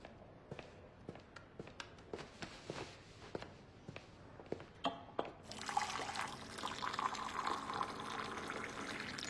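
Water pours steadily into a vessel while tea is made indoors, a continuous splashing stream rising after a run of light footsteps and small knocks, fairly near and moderately loud.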